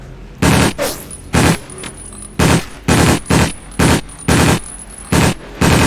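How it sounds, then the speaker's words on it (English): Short-range machine gun in Battlefield 1942 firing about nine loud, close bursts, each roughly a quarter second long, separated by brief pauses in an uneven rhythm. "Quite a short range machine gun"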